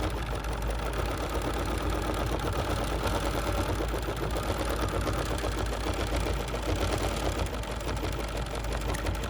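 BERNINA 7 Series embroidery machine stitching a design, a close, continuous rapid mechanical hum and needle patter holding steady and even throughout with no talk.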